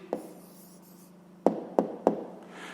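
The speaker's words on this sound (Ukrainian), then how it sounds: "Ну що ж, зараз записуємо тоді відповідь." A hand writes out the answer to a fifth-grade maths problem on paper, with faint scratching and a few distinct taps of the pen, quiet and close with no talk.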